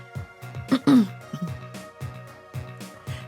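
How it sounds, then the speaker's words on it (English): One person coughs and clears their throat in a series of short, harsh bursts, with a loud rasping hack near the middle, and quieter throaty coughs come in an uneven rhythm after it. "this cough really needs to go"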